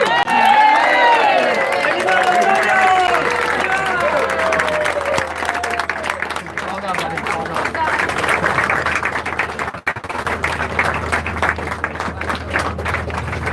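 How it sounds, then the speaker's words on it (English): Wedding guests applaud and cheer the newlyweds, loud clapping with whoops and voices at first, then settling into a steadier, slightly thinner round of applause that carries on to the end, with a brief dip near the close. "Give them a round of applause."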